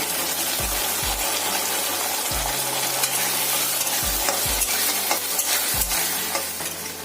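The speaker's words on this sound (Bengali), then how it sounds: "এবার কিন্তু খুব ভালো করে আমি পেঁয়াজগুলো ভেজে নেব" Chopped onions fry with ginger and garlic in a pan for a spine gourd curry, a constant close sizzle punctuated by about six scraping stirs of a spatula.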